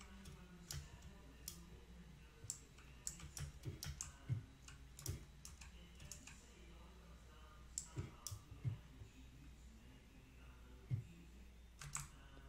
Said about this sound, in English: I've increased my CPS to 12 because of butterfly clicking.